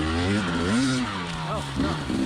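A 2020 KTM 300 XC TPI two-stroke dirt bike on an evening trail ride in first gear, its engine droning steadily near the microphone with the pitch rising and falling as the throttle changes.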